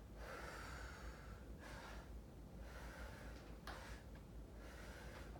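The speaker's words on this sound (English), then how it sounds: "I'm breathing heavier so that you can hear how we're supposed to be breathing throughout that exercise" Heavy breathing during a squeeze exercise in a personal training session, with three or four long, forceful breaths that alternate with short pauses, close and audible over a low background hum.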